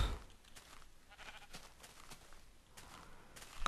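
Sheep bleating in the Minecraft video game, a few short bleats scattered over a faint noisy background, with no talk.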